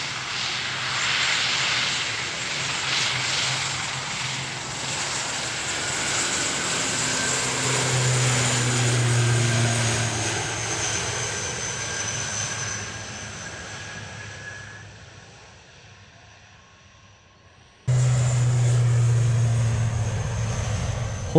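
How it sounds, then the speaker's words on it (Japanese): A propeller airplane takes off from a runway in Amakusa, Kumamoto, heard from a nearby park. Its loud, steady engine drone builds, then slowly fades into the distance before cutting off abruptly. "羽をフル回転して一生懸命飛び立とうとするように見えるから、思わず応援したくなる飛行機です。"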